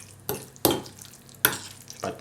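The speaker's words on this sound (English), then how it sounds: "just mix it well" Baked feta pasta being stirred in a pan, with a few scraping, clattering strokes in short bursts separated by quiet gaps, close and fairly soft.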